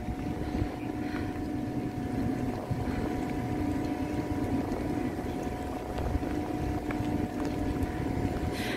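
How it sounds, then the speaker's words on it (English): Low, steady rumble of a canal boat engine passing nearby at the Anderton Boat Lift in England, with wind buffeting the microphone throughout. "you start to see the other boat"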